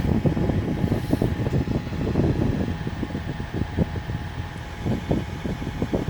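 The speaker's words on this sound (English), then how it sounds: "This is that little air conditioner unit." A small air conditioner unit running inside a truck cab, a steady close whir with a soft rapid fluttering pulse and a constant hum.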